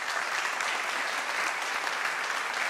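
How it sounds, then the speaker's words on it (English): A church congregation gives a round of applause, a dense, steady burst of clapping from many hands at close range, loud and even from start to finish with no voices. "Give him a round of applause."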